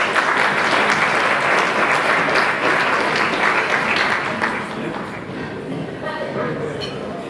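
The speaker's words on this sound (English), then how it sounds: "please join me for another round of applause for Mr. Michael Schiff and Kathy Espy." Dense, steady applause from a ballroom audience at a masquerade ball gala, a broad crowd clapping that carries on for several seconds and eases slightly toward the end, with voices mixed in underneath.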